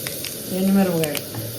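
Mustard seeds and dried red chillies frying in hot oil, a soft hissing sizzle with a brief louder swell in the middle, faint and close over a quiet kitchen background.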